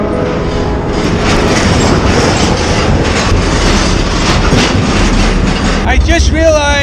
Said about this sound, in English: Train right here. This looks like it.